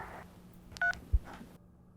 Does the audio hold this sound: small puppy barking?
no